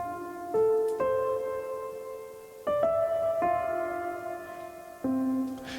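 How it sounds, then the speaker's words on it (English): A dark cinematic piano patch on a Korg M3 synthesizer, with no top end and drenched in heavy reverb. Slow single notes and chords ring out with long washy tails, and no voices are heard. "the Korg's cinematic piano, which is a glorious patch on the Korg M3 behind me"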